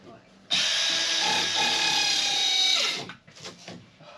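A power saw cuts through the wooden ceiling of a camper van to make an opening for a fan vent, a loud steady whine of about two and a half seconds that then winds down, followed by light rattling and knocking.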